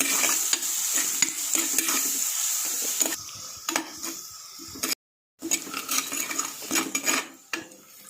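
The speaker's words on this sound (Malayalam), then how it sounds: "ഇനി നമുക്ക് ചതച്ച ഉള്ളി അങ്ങ് ഇട്ട് കൊടുക്കാം. ഇനി ഇത് നന്നായിട്ടൊന്ന് മൂപ്പിച്ചെടുക്കണം." Crushed shallots fry in a pan for an ayala fish curry, a bright sizzle punctuated by repeated metallic scrapes and taps of a spoon stirring, close by, with a brief gap of silence midway.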